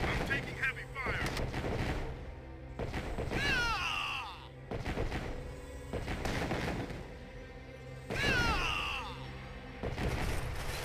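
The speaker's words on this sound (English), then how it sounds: "I'm taking heavy fire." Heavy gunfire and explosions from C&C Tiberian Sun rumble continuously, with repeated blasts and crackling bursts, while whistling in-game effects sweep through twice; loud and dense throughout.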